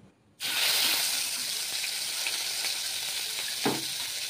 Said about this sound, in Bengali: কেউ সাদা তেল দিয়েও ভাজে, কেউ বাটার দিয়েও ভাজে। আমি সাদা তেল দিয়েই ভাজছি।